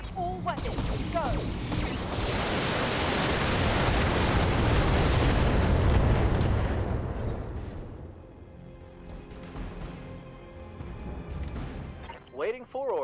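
A full salvo of weapons fires at once in the BattleTech video game, a loud sustained roar of blasts and explosions that swells and then fades into scattered crashes.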